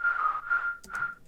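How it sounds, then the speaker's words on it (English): A bright, pure synthesized whistle tone plays a short melodic phrase, sliding smoothly between notes, clean and alone. "a whistle sound"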